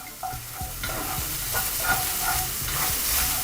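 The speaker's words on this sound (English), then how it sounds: "just going to lightly saute the garlic in the same pan" Garlic lightly sautéing over low-medium heat in a pan just used for pepper steak, giving a soft continuous sizzle broken by repeated scraping stirs, close and alone with no voices.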